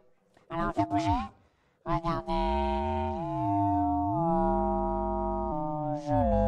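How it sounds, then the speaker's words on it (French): A ring modulator turns a spoken voice into the metallic, robotic Dalek sound from Doctor Who. Bursts of processed speech are followed by a long, wavering modulated tone that sweeps up and down, close and clear. "C'est le son des Daleks dans Doctor Who."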